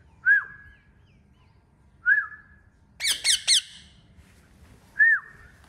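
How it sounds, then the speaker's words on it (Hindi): A person whistles three short, clear, sliding notes spaced a couple of seconds apart to call a pet parrot back, with a quick burst of harsh chirps in between against an otherwise quiet background. "जब इसे सीटी पीछे से देता हूँ तो फिर ये वापस आ जाता है सीटी के आवाज से"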